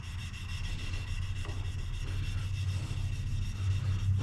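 A Damascus steel blade, a canister feather Damascus, is hand-sanded with 400 grit sandpaper, giving a steady, quiet rasping of repeated strokes with no talking.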